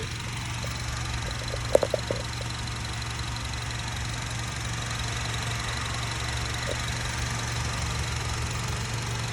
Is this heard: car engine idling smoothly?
yes